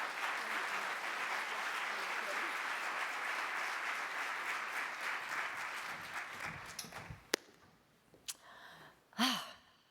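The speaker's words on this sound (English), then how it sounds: "Please give them another round of applause" Audience at a nursing scholarships and research grants awards ceremony applauds with dense, steady clapping that fades out after about seven seconds, followed by a few stray claps and a short vocal sound near the end.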